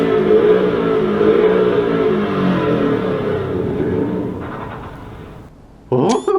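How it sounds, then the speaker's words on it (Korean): A Maserati's turbocharged engine gives a loud, rough, close drone that gradually fades, then cuts to near-silence before a brief burst of other sound at the end. "이건 굉장히 일단 소리가 탁한 걸로 봐서 터보가 들어가 있는 엔진이네요"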